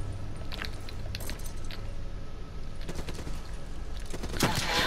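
Gunfire crackles in Call of Duty: Black Ops 3 as a shooter opens up, with scattered rapid pops over a steady battle din and a sharper, louder burst near the end.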